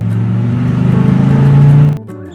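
A car engine drones steadily close by, pulsing slightly as it rolls up, then cuts off near the end, followed by a faint clunk.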